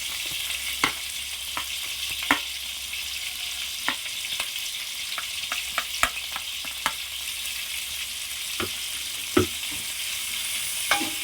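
Chopped onion pieces and green chillies frying lightly in oil for paneer biryani, a steady close sizzle punctuated by sharp clicks and taps of a spatula stirring the pan at irregular intervals; no talking.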